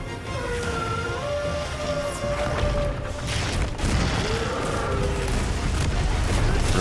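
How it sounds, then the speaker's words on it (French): Explosions go off all around in the video game Monster Hunter Wilds, a dense continuous rumble of booms layered with tonal game music and effects, loud and sustained throughout. "Oh la vache, des explosions partout,"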